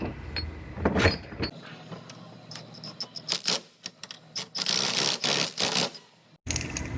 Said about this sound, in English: So I'm gonna put this clamp on there real quick.